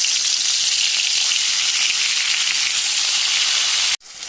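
Fish slid into hot oil in a kadai gives a loud, steady broadband sizzle that holds strong throughout and then cuts off abruptly near the end before resuming more softly.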